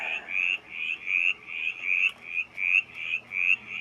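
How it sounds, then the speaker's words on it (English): Mountain chorus frog calling in a steady series of about eight rising, raspy trills, each roughly a third of a second long and evenly spaced, fairly close and clear over a quiet background with no voices. "Yes, the mountain chorus frog is calling."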